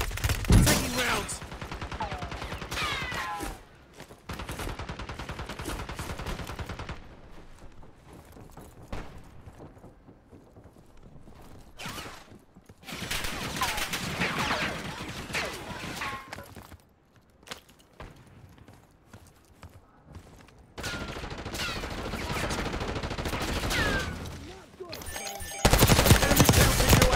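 Call of Duty gunfire comes in bursts of rapid automatic fire mixed with single shots, loud and close, separated by quieter stretches with footsteps. A voice speaks briefly between the bursts.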